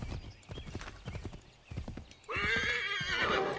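Horse hooves clip-clop in a steady rhythm in the Assassin's Creed III video game, then a loud, close neigh rings out at the end.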